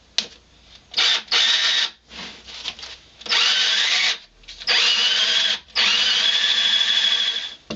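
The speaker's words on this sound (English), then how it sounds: "Once you feel the point of the drill bit come through, you want to switch it over and drill from the opposite side." A power drill bores a bit through a wooden coffee tabletop in repeated loud bursts of whining, grinding sound separated by brief pauses, close up with no talking.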